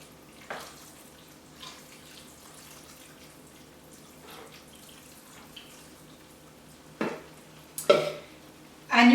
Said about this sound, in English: It's like bubbling in here as it travels through all the little mud particles.